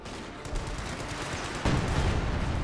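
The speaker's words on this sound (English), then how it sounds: "volley fire going up with their troops" Massed rifle volley fire from infantry troops in Company of Heroes 2, a dense crackling barrage of overlapping shots that swells louder partway through, with no talk.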